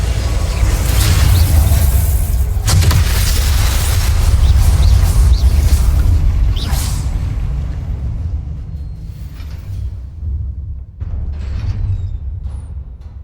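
A Confringo fire spell explodes during Hogwarts Legacy combat, a loud rumbling low boom with a sharp burst near the start, sustained heavy roar that slowly fades, then a fresh smaller blast near the end.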